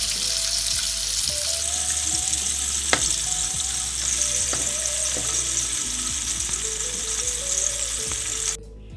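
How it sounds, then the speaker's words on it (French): Whiting fillets fry in oil in a large pan, four at a time, with a steady, loud sizzle and crackle throughout and a few sharp pops; the hiss drops away abruptly just before the end. "Donc on va frire sur les deux côtés 3-4 minutes."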